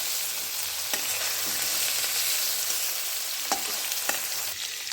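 Okra fries lightly in hot oil in a pan, a steady close sizzle with a few sharper pops and spatters and occasional stirring clicks.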